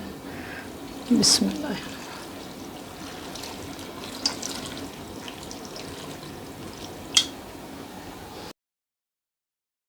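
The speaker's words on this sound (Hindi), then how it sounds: "और इसमें पानी शामिल कर देंगे।" Water poured into a cooking pot holding cumin and black pepper for a minced-meat dish, a faint steady trickle and splash with a couple of sharper clinks, a brief spoken word near the start.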